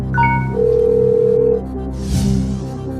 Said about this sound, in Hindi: जावेद अख्तर साहब को वीडियो कॉल लगाया जाए